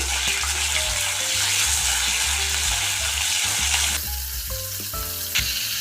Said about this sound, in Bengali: তেল গরম হয়ে গেছে, চিকেন কিমাটা ছেড়ে দিলাম, একটু ভেজে নিচ্ছি।